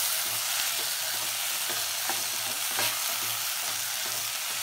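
Boiled pearl millet (bajra) being stirred into a sizzling vegetable mixture in a hot pan for a Gujarati bajra shak, with steady frying hiss and repeated scraping stirs, close and alone without talk.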